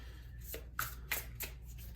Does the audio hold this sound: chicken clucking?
no